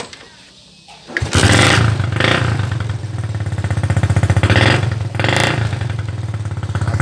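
Honda Supra motorcycle engine catching on the first kick after a short quiet lead-in, then idling with a steady, loud putter and a couple of small revs, heard up close.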